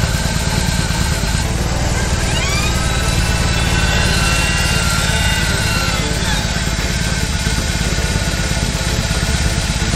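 A BMW R18 motorcycle engine runs loud and close in a steady, unbroken idle, with a dense mechanical drone holding for the full stretch.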